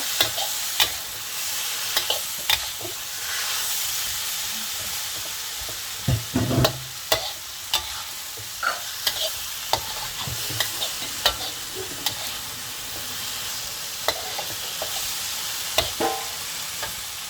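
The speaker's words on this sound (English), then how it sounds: "Give it a stir." Tomatoes frying in a pan on high heat, a continuous soft sizzle broken by repeated scraping and clacking knocks as a utensil stirs them against the pan.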